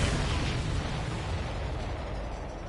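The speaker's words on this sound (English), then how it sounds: "That's a confirmed direct hit by the missile." A missile strikes its target and explodes in the jet combat game Ace Combat 7, a dense, steady roar of blast noise that holds loud through the whole moment with no voices over it.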